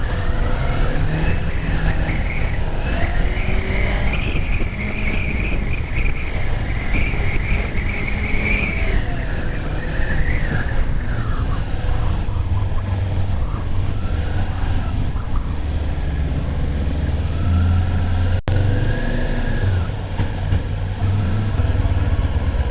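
A car passes on a road during motorcycle practice, its engine tone rising and holding over several seconds before fading, set against steady loud wind and traffic rumble.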